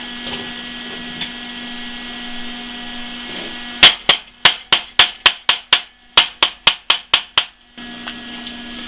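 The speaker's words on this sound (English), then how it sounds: "grab the chipping hammer, see what we got" A rapid series of sharp metallic taps from a chipping hammer on a weld, two bursts of about eight strikes each with a short pause between, over a steady electrical hum.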